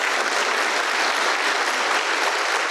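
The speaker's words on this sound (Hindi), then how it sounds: "ताली मत बजाइए" An audience claps at a talk, a dense, even wash of applause from many hands that stays loud and steady from start to finish, with no voice standing out above it.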